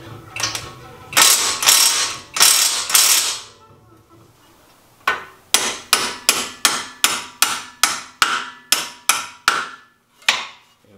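A hand ratchet works loose the strut bolts on a 2015 Subaru WRX Limited suspension, first in a few long bursts of rapid clicking, then in a steady run of about a dozen short, sharp clicking strokes, close and loud, with no talk.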